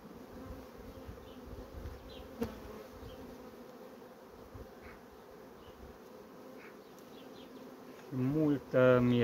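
Honeybees hum steadily inside an open hive during artificial swarm preparation, a low continuous buzz with drones among the workers, close and fairly quiet, swelling louder near the end.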